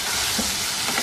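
A brief burst of steady sizzling with soft scraping as chicken karahi with yogurt is stirred in a hot pan.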